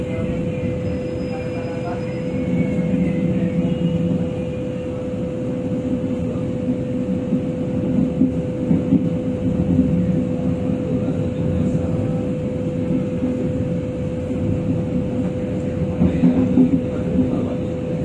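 Passenger train on the Cibatu–Garut line rolling steadily along rails, a continuous low rumble with a constant mechanical whine, heard from inside the carriage at a slow, even pace.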